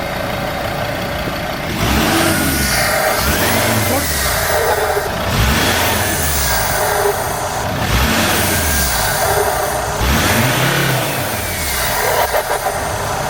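A warmed-up Ford Endeavour engine with no catalytic converter revs repeatedly, rising and falling in several loud, raspy sweeps, each throaty roar swelling then dropping back toward idle.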